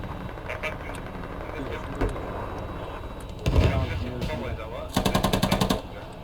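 Video game gunfire aimed at an enemy helicopter, a short rapid burst of automatic shots near the end, after a single heavier blast, under ongoing voices.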